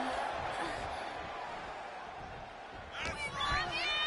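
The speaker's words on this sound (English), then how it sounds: "The crowd is fired up." Arena crowd noise in the WWE 2K26 wrestling game, a steady roar of fans under match action, swelling louder with a burst of cheering near the end while commentary continues.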